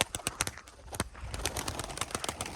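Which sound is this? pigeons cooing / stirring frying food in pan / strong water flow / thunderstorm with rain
pigeons cooing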